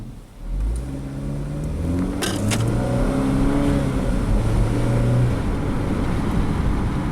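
A Chevrolet Equinox with a P0011 fault code drives along a road, the engine droning steadily and rising in pitch as it accelerates through gears, with continuous road and tire noise from inside the cabin.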